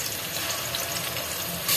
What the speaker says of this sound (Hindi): अभी हम 2 टेबलस्पून लहसुन अदरक का पेस्ट डाल रहे हैं